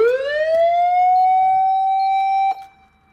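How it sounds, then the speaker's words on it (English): A single fire truck siren on a 1995 Nissan D21 Datsun fire truck wails, sweeping upward and holding a loud, steady high tone for a couple of seconds, then cuts off abruptly. "there's the siren."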